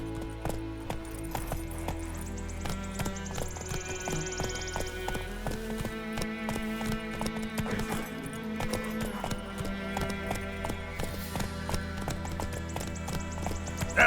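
Roach, a horse in The Witcher 3: Wild Hunt, gallops with rhythmic clip-clop hoofbeats under a steady bed of orchestral game music, with a brief snort near the start.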